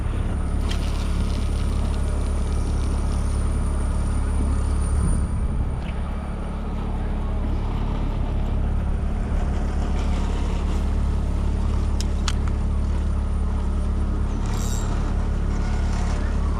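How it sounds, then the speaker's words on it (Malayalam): A fishing boat's engine runs at sea with a steady, loud low-pitched drone and hum that holds constant throughout, with faint clanks of gear on deck. "ഇത് എഞ്ചിൻ സ്റ്റാർട്ട് ആക്കിയിട്ടുണ്ട്."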